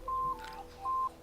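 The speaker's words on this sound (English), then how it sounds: "Phone ringing." A phone rings during a tabletop role-playing session, two short steady electronic tones separated by a brief pause, fairly quiet and heard alone.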